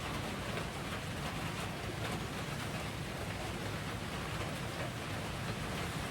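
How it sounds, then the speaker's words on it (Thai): Heavy rain falls steadily, heard from indoors as a dense, even roar of broadband noise that holds without pause and with no voices. "ตอนนี้ฝนก็ ตกค่อนข้างหนัก"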